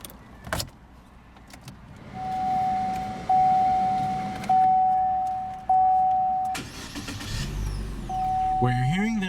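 A 2016 Chevrolet Sonic LS's 1.8 liter 4-cylinder engine idles and then revs in several rising pulses, a steady tone holding underneath, with a few brief clunks and a voice near the end.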